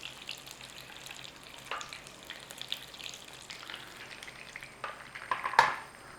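Egg-coated chicken cooks gently in a pan over low heat for chicken francese, giving a soft continuous sizzle with a few stirring or shifting sounds and one louder clatter near the end.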